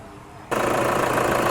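A quiet room suddenly fills with the loud, steady rumble of a 3.0-litre diesel engine in a 2012 Toyota Fortuner starting and running at idle with a rough, knocking texture.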